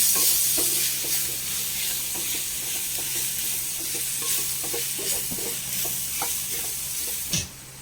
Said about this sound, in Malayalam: മസാലപ്പൊടി എല്ലാം കൂടി നന്നായി ഒന്ന് വഴറ്റി കൊടുക്കാം